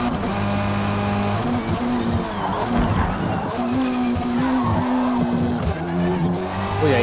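Loud, continuous engine revving from a racing video game with a Lancer X EVO GSR 2008, rising and falling in pitch alongside repeated tire squeals and skidding throughout.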